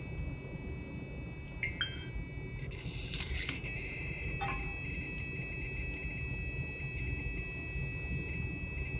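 A979-B digital servo steering an RC car, with short, faint, high electronic whines and buzzes in a few quick bursts over a steady low background hum.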